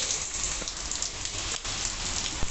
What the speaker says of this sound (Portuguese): Ui, chuva.